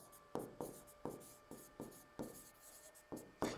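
Marker or pen strokes writing a chemical equation for manganese dioxide on a board or page during a Class 10 science lesson, heard as a close series of short scratchy strokes at an even rhythm, with no talk.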